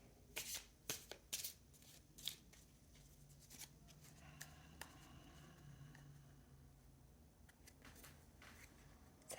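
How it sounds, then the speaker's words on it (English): Oracle cards are shuffled several times up close, crisp riffling bursts followed by softer shuffles and quiet handling in a still room. "the cards shuffling"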